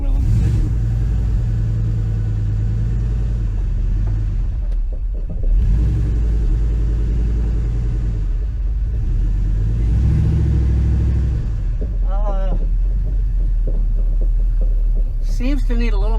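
A V8-swapped Celica with a 4T65E automatic transmission rumbles and hums steadily up close, its engine note swelling and easing as it creeps and pulls away, with a voice talking intermittently over it.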